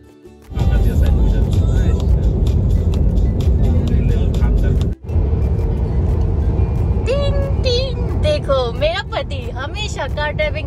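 A road vehicle cabin carries a steady, loud, broadband rumble from start to finish, briefly cut off once partway through, while people talk and voices rise over the drone near the end.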